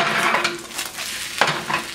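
A mushroom and cheese omelette being flipped in a hot pan: a soft steady sizzle with scraping and a couple of sharper knocks as the egg turns over, no talking.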